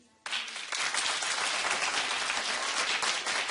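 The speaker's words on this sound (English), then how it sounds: "Clap if you do." A studio audience at a daytime talk show bursts into loud, steady clapping after a brief quiet moment, the dense applause continuing evenly to the end.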